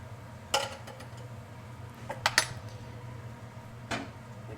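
A spoon stirs tomato sauce with red pepper flakes in a pot for spaghetti and meatballs, giving a few sharp metallic clinks and scrapes spaced apart over a low steady kitchen hum.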